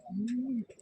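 A quality pigeon from a Bengali pigeon-selling stall gives one clear, close coo, a smooth sustained call lasting just over half a second with a little soft noise after it.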